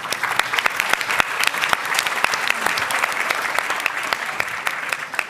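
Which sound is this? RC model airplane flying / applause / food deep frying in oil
applause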